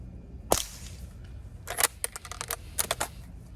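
An Umarex Legends Cowboy lever-action air rifle fires one sharp crack, then the lever is worked in a quick burst of metallic clicks and clacks.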